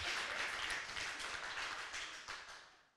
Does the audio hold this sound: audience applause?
yes